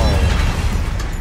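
A grenade detonates in Helldivers II, a loud low rumbling blast that fills the short moment with heavy bass.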